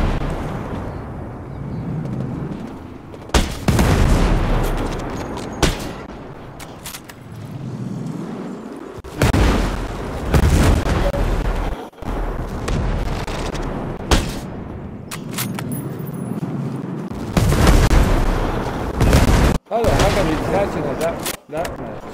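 Repeated bursts of heavy gunfire and booming explosions during a Behemoth robot fight in the game Ghost Recon Breakpoint, loud, close salvos recurring every few seconds with a player talking between them.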